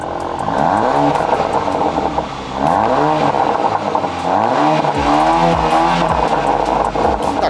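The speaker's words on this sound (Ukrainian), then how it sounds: "чути той самий вихлоп, який, до речі, ми зараз з вами і е, послухаємо" A 2021 Porsche Macan engine revs repeatedly, its exhaust note rising and falling in loud pulls that rumble close by.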